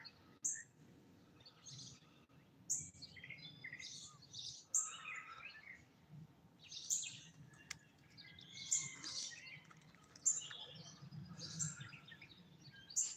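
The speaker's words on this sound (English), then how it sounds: "I can hear some of my crow buddies out here." Crows call repeatedly outdoors, short harsh cries recurring every second or two over a low rumbling background, moderately distant.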